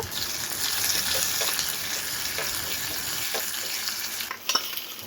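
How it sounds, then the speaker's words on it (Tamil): Mustard seeds, cumin, dried chillies, small shallots and curry leaves frying in hot oil for a tempering, a steady close sizzle with stirring throughout, ending in a brief clatter. "2 ஸ்பூன் கடுகு, 1 ஸ்பூன் ஜீரகம், 2 காஞ்ச மிளகாய், 10 சின்ன வெங்காயம், கொஞ்சம் கருவேப்பிலை எல்லாம் போட்டு கிளறி விட்டுருங்க."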